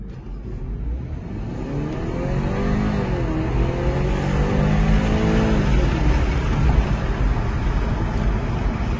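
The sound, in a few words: BMW 330e xDrive Touring petrol engine starting at full throttle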